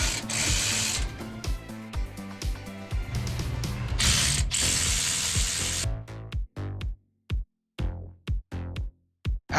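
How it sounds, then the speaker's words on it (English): A 1/4 inch ratchet with a 7/16 socket loosens worm screw hose clamps on a fuel tank, making a fast, loud clicking that gives way to short separate bursts of ratcheting close by, with no talking. "now using a 1/4 inch ratchet with a 7/16 socket to loosen the 2 worm screw clamps"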